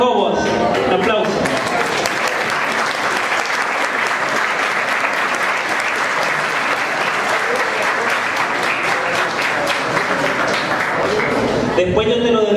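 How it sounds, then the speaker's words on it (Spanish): An audience at a book presentation and talk gives a long, loud round of steady applause that keeps going at full strength and cuts off abruptly at the end. "Un aplauso."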